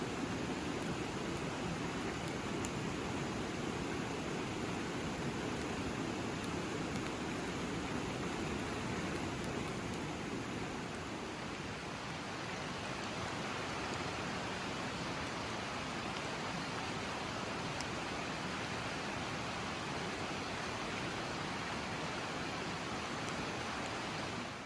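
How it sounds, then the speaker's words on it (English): River on Vancouver Island flowing steadily, a broad, even rushing wash of water that continues without a break, heard fairly close and alone with no voices. "enjoying being by the river, the sound of the river"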